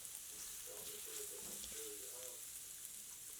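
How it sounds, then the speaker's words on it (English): Garlic sautés in butter and olive oil over low heat before shrimp go in, giving a faint, steady soft sizzle with a light hiss throughout. "So first I want to saute my garlic, but don't want to burn it."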